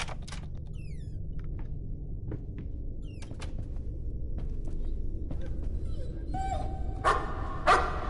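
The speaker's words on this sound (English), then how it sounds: "Dogs. Maybe they come and protect me." Dogs barking in the horror video game Layers of Fear, sharp yips and barks spread over a low rumbling ambience, with louder barks near the end.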